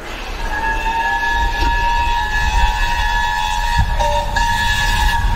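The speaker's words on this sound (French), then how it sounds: "Ah, c'est le Tornado, un train anglais." The English steam locomotive Tornado sounds a steady whistle tone over rumbling running noise and rail clatter, with a brief pitch shift near the end.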